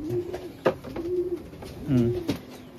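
Red checker racing pigeons coo at close range in a loft, with low throaty rolling coos and a couple of sharp wing or body bumps, while someone talks faintly underneath.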